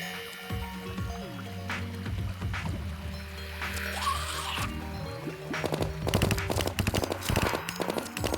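Rapid bursts of gunfire from bullets shot in Terraria, played in Master Mode, crackle in dense clusters over game music and effects, growing louder and busier toward the end.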